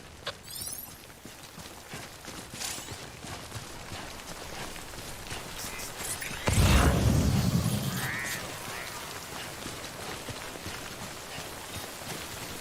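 Timefall rain in the video game Death Stranding: steady hiss of rain pattering on surfaces throughout, with a sudden louder low rumble and splash midway, fading back to the constant downpour, no talking.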